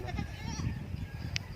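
A young goat bleats once on a small goat farm in the Philippines, a brief, fairly close call over low rumbling background noise.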